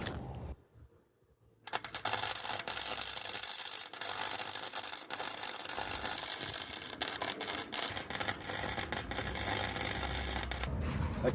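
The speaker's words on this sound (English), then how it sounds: "So I've just spent today filing the welds up there." Hand file scraping over welds on a steel cargo bike frame, a dense rasping rub that starts after a short pause and repeats in close, uneven strokes throughout.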